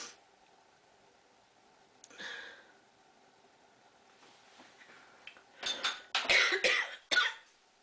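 Several harsh coughs burst out close together near the end during cold process soap making, after a stretch of quiet handling noise and a single softer cough earlier.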